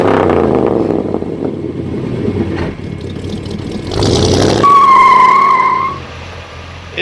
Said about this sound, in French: moteur tournant dans un premier temps pour que vous puissiez en apprécier le vrombrissement du moteur